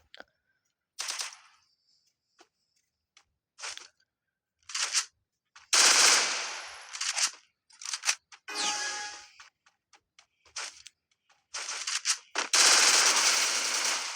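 Bursts of automatic gunfire and single shots from a shooting video game crack out loudly between stretches of near silence, some long sustained volleys, with no talking.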